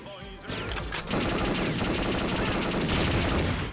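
Rapid gunfire from weapons in the video game Perfect Dark, a loud, dense burst of repeated shots that starts about half a second in and keeps going steadily to the end.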